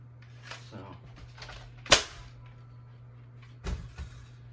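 A toy Apollo blaster from a gun game fires one sharp, loud crack near the middle, then a softer double click of handling toward the end, over a low steady hum.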